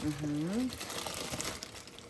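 A plastic bag crinkles in a home kitchen, giving a quick series of rustles and crackles at close range, with a voice speaking at the start.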